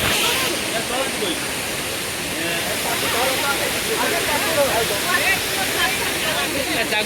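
Sanaghagara waterfall at the Ghatgaon shrine area pours as a steady, loud broadband roar that fills the whole clip without pause.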